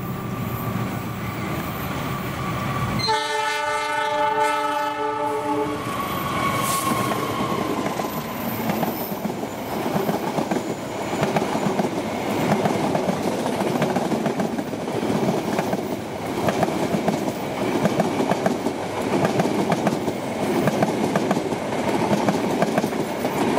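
Indonesian passenger train, the KA Mataram hauled by a locomotive, passes at Bekasi Timur: a sudden loud horn blast, then a sustained close roar of wagons with rhythmic wheel clatter and some squeal running to the end.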